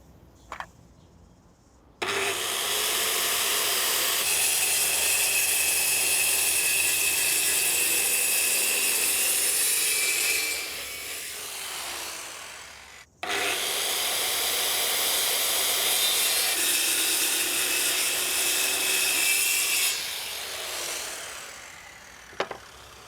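A power saw cuts timber for trestle legs in two long, loud passes, each with a high whining rip that fades as the cut finishes, separated by a short gap and a quiet run-down.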